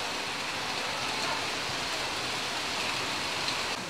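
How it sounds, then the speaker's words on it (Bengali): Light drizzle falls outdoors in Halisahar, a steady, soft, even hiss of rain that carries on without pause, with no voices over it. "হালকা হালকা গুড়ি গুড়ি করে বৃষ্টি পড়ছে"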